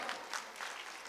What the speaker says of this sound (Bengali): করতালির মাধ্যমে মুহূর্তটিকে প্রশংসিত করি।